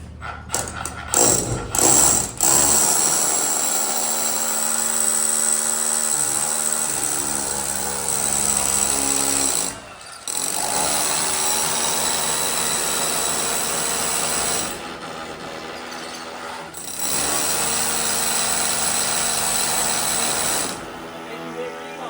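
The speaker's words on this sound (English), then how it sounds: "We're gonna drill one" A power drill whines loudly in long sustained bursts, stopping briefly between runs, with a few short knocks at the start, while drilling into rebar.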